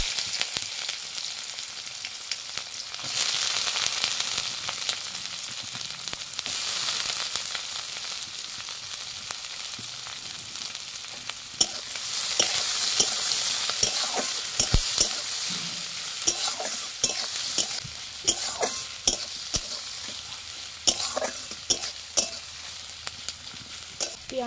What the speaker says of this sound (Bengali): পেঁয়াজ আমার লাল লাল করে ভাজা হয়ে গেছে